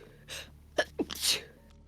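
A single sneeze in Divinity: Original Sin 2: a short breathy intake followed by a sharp, forceful burst, close and clear against a quiet background.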